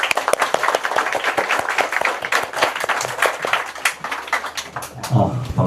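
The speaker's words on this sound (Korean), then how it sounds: "교장 선생님을 큰 박수로 모시겠습니다." A school assembly audience claps to welcome the principal at a student reading event with an author, steady dense applause lasting several seconds, with some voices mixed in.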